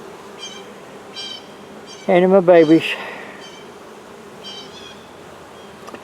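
Bees buzz around a hive that holds a capped queen cell during swarm control, a steady close drone interrupted midway by a brief loud voice.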